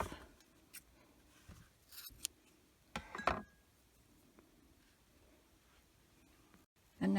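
Scissors snipping off crochet yarn after a tie: a few short, quiet cutting clicks spread apart, close by in an otherwise quiet room, with one louder snip near the middle and no talking.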